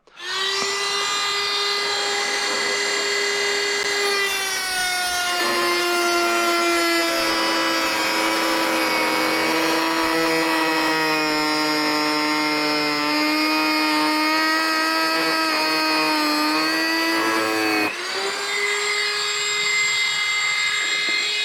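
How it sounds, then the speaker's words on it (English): A spinning rotary cutting wheel cuts through a metal flex shaft, producing a loud, continuous high-pitched whine that dips and rises in pitch as the wheel bites, with no talking. "when you're using your cutting wheel, okay, this is spinning in a particular direction"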